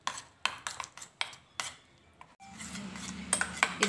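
A spoon working softened room-temperature butter until creamy in a bowl, a series of distinct clinks and scrapes at a steady pace, followed by continuous mixing scrapes with light metallic pings, no talking.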